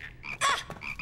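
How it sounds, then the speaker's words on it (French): Cartoon frogs croak in a French animated series, a loud burst of overlapping croaks swelling in the middle of a second-long stretch, with softer croaking before and after. "Libérez les grenouilles"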